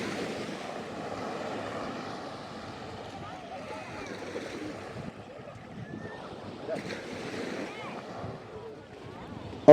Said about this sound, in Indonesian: menikmati deburan ombak pantai ini